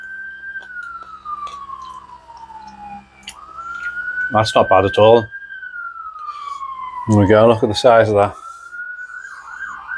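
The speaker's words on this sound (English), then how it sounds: "If you can hear the sirens in the background," Sirens from ambulances passing near a hospital wail in slow rising and falling sweeps at a middle distance, continuing steadily under someone speaking outdoors at an allotment.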